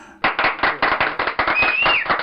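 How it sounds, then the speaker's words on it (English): A small group claps in quick, evenly spaced bursts, loud and close, for about two seconds, with a thin whistling tone sliding through near the end. "Applause for getting it close to right."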